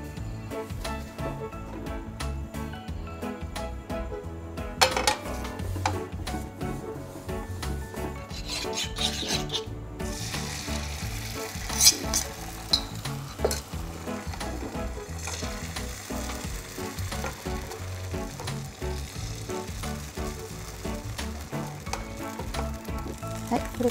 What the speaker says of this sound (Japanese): 次は白身を焼きます。